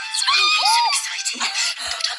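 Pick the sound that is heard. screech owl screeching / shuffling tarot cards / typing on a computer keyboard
screech owl screeching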